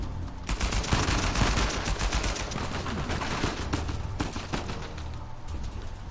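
Rapid, continuous automatic gunfire from an AK-type rifle in Uncharted 4, loud and close, with dense rattling shots sustained across the whole stretch and a few louder cracks standing out.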